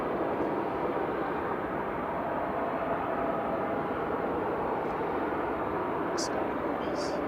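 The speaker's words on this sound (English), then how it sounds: "Ryanair taxiing out for departure" A Ryanair airliner taxis out for departure at Manchester Airport, a steady broad engine roar at a distance, constant and unbroken, with a couple of faint high chirps near the end.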